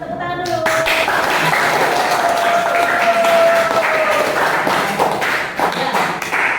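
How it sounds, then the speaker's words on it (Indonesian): Students applaud in a classroom, a dense burst of clapping that starts abruptly and holds steadily for several seconds, with a faint sustained tone running beneath. "Tepuk tangan dulu."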